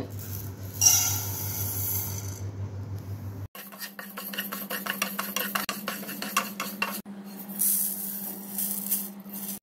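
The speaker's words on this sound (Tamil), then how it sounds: "தோல் உளுந்தையும் வறுத்துடலாம் அரை கப் தோல் உளுந்து" Skinned urad dal is dry-roasted in a pan, giving a soft, continuous scraping and rattling of dry lentils under a stirring spoon, with a short break partway through, quiet and close with no voices.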